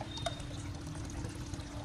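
Tap water flowing steadily at home, a soft, continuous trickling and pouring stream heard faintly at a distance with a low background hum and no talking.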